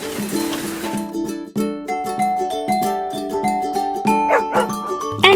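Farm dogs bark in quick, overlapping yaps close by, with busy tonal background sounds running underneath.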